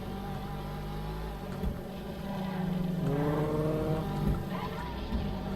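A car engine in GTA 5 drones steadily throughout, and a revving note climbs in pitch midway, with a person talking over it.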